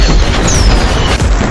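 Diwali firecrackers go off in loud, close bursts of booming explosions, a dense cracking barrage with overlapping blasts and no clear pauses.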